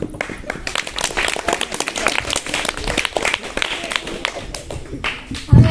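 Children clap together at a school mock village assembly (gram sabha), a dense ragged round of applause from a group that keeps going steadily, with some faint voices mixed in.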